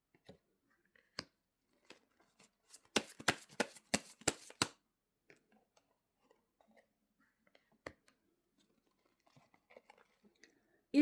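Tarot cards handled at a reading table: a burst of quick crisp snaps and slaps in the middle, with sparse soft card taps before and after in a quiet room.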